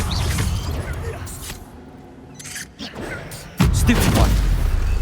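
Combat in Hogwarts Legacy with the Stupefy spell cast, producing booming magical impacts and whooshing bursts amid fighting noise, with a loud blast near the end and a shouted voice partway through.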